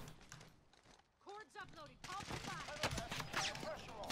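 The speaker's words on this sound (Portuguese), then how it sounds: "Tomando tiro dos dois lados agora" Gunfire crackles in the video game Call of Duty Warzone as a player takes shots from two sides, bursts of rapid shots mixed with someone talking excitedly over the game sound.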